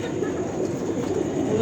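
A racing pigeon kept by a fancier coos in low, soft, throaty repeated calls, fairly close, over a faint background hum.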